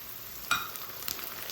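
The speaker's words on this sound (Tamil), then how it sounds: "சின்ன வெங்காயம் வேகட்டும் வெங்காயம் வதங்கிடுச்சு தக்காளி சேர்த்துக்கிறேன்" Small shallots and added tomatoes fry in a pan for a bottle gourd curry: a gentle, steady sizzle with one brief spoon scrape, close but faint and without speech.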